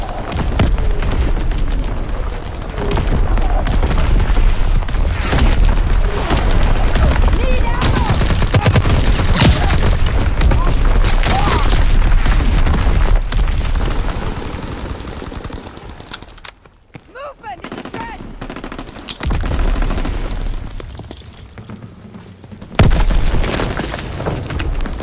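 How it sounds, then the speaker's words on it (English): Primary battery artillery firing in Call of Duty WWII, a loud, dense barrage of booms and gunfire rolling almost continuously, briefly dropping away before another heavy blast. "Firing primary battery."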